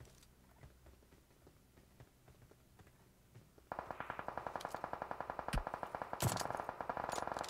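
Gunfire in PUBG Mobile: quiet scattered shots at first, then a loud rapid burst of automatic fire with evenly spaced sharp cracks that continues to the end.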